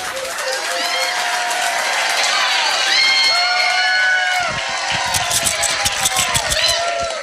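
A crowd at a trivia quiz night at The Yard applauds and cheers the winning team as their gold medals are handed out. The clapping is dense and sustained, whoops rise through it, and voices carry over the top.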